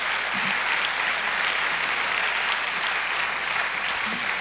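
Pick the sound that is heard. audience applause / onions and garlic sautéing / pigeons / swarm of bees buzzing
audience applause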